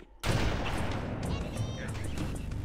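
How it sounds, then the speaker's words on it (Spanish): A loud sniper rifle shot rings out in the video game Halo: Assault on the Neco-Arc, one sharp blast followed by a sustained reverberant boom and game noise. "Me queda 4 disparos de sniper."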